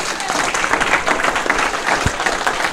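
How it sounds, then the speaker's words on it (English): Sustained audience applause from a crowd at a county candidates' event, dense steady clapping at moderate loudness throughout, with a faint voice mixed in. "I need a round of applause for that"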